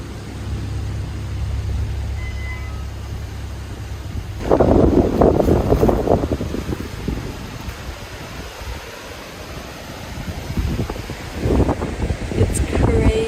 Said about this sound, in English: I love when the wind is howling a little bit through the trees.